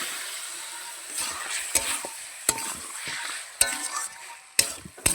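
Meat sizzles loudly in a hot frying pan for a Bengali meat curry, a steady broad hiss broken by several sharp clicks and scrapes of stirring, close and alone with no talk.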